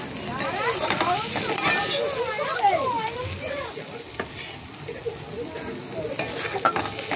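Taro leaves stir-fried in a pan, with a steady sizzle under repeated close scraping strokes of a spatula, plus faint clinks of cookware.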